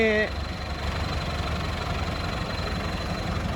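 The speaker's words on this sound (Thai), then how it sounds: "รถไถจอนเดีย นี่" A John Deere tractor engine idles steadily with a low, rumbling chug, close by; a brief voice is heard at the very start.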